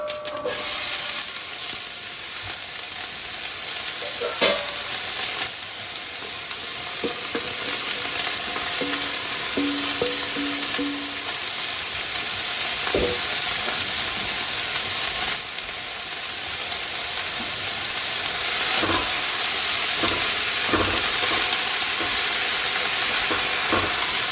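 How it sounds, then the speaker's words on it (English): Chopped onions and hot peppers frying in a pan of apple chutney, a steady loud sizzle and hiss close up for the whole stretch, with a few faint clinks of stirring and no talk. "I'm going to add the onions and my hot peppers in here."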